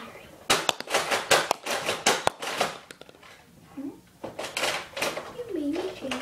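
Nerf blasters firing in a rapid series of sharp pops and clacks during a Nerf war, loud and close, with children's voices talking between and over the shots.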